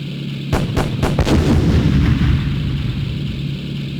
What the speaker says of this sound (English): I can hear the revolver being shot at me